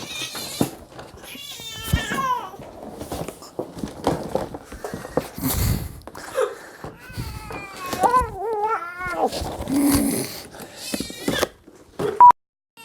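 A house cat yowls and meows repeatedly in complaint while being readied for a hurricane evacuation. The cries come in irregular bursts, loud and close, with a person talking in between.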